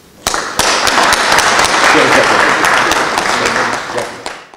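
A large audience bursts into loud, sustained applause at a law academy anniversary celebration, starting with sharp claps and swelling into a thick, continuous roar before tapering off at the end.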